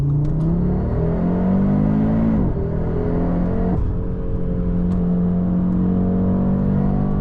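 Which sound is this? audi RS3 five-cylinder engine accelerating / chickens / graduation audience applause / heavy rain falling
audi RS3 five-cylinder engine accelerating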